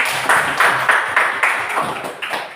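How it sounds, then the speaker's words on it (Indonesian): Schoolchildren in a classroom clap together after a quiz answer, a run of roughly rhythmic bursts of hand claps, fairly close and steady, with no talking over them. "Bagus, tepuk tangan."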